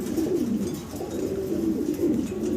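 Two young male pigeons coo in low, throaty, rolling phrases that repeat and overlap, close and clear, with no talking over them. The birds are at a pigeon sale.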